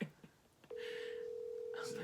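A flip phone dialing a cell number: a few short keypad tones, then a steady ringback tone that holds to the end, with quiet speech-like sounds near the start.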